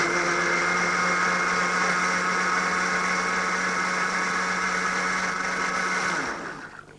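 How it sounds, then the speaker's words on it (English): A countertop blender runs steadily on pancake batter made with whole wheat flour, a loud, even motor whir with a high whine that holds for about six seconds before winding down at the end. "then you'll need to blend these ingredients again"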